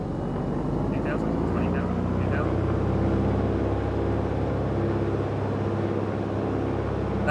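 Piper PA-28 Arrow III piston engine running at full power in a flight simulator, a steady loud droning hum with a low propeller throb that holds evenly throughout, with no break or change in pitch.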